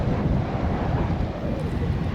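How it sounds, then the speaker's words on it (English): Strong wind at a port in Gladstone, Queensland buffets the microphone with a constant low roar and rumble, loud and close throughout. "It's also quite windy"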